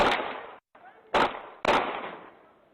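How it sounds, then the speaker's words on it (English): Three sharp gunshots crack in quick succession from police exchanging fire with a suspect outside a house in West Jordan, each loud blast trailing off in a reverberant echo, picked up by a doorbell camera. "I heard several gunshots."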